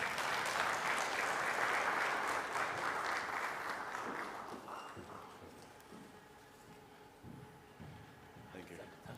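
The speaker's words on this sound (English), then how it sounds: "Please give him a clap as he comes." An audience claps steadily to welcome the Governor of Nairobi, Johnson Sakaja, at an industrialization conference in Kenya, the dense applause gradually thinning and fading out with a few scattered claps and murmurs toward the end.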